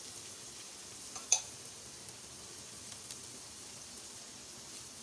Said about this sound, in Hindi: इसको अच्छे से हम भून लेते हैं।